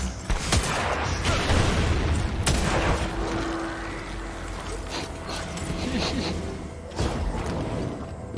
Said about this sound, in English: I ran behind cover and he's still shooting.